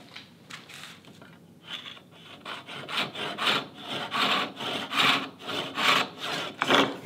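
A hand saw cuts a wooden plane front knob clamped in a vise, its strokes growing louder and more rhythmic as it bites in, a steady back-and-forth rasp heard up close with no talk.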